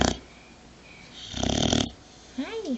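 A dog snores with its eyes open, giving a few raspy, wheezing breaths: one short snort, a longer rattling inhale, then a softer whistling wheeze, close and fairly loud with no talk.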